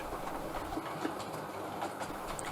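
A model railway train hauled by a 4MT locomotive runs around a small layout with tight curves, giving a steady, continuous rolling rumble with light rhythmic clicks from the track, moderately close and alone.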